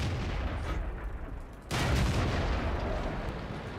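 Artillery fire in the tank battle game World of Tanks: a steady low battlefield rumble, then a heavy booming blast about halfway through that leaves a louder roar hanging afterward.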